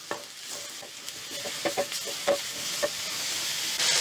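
White button mushrooms frying in a pan for Chicken Alfredo pasta, a soft steady sizzle with a few scraping stir strokes and light clinks, close and alone with no talking.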